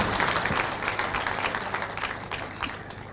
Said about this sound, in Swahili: Makofi kwa Deputy Governor